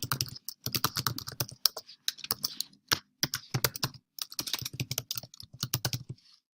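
Rapid keystrokes on a computer keyboard as an email address is entered while setting up a student user profile, bursts of close, crisp clicks with brief pauses, no voices.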